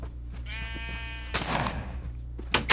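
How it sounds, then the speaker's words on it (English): A sheep in Minecraft lets out a single drawn-out, wavering bleat close by, followed by a burst of noisy rustling and a short sharp sound near the end. "Yeah, sheep."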